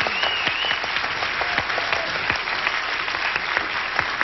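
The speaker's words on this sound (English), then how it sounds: "Give them a nice round of applause." A game show studio audience gives sustained applause, a dense, even wash of clapping with scattered sharper claps standing out, continuing for over four seconds without speech.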